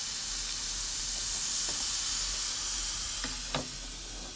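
Fish frying in a small amount of oil in a pan, a steady close sizzle with faint crackle and a couple of brief clinks near the end, no talk.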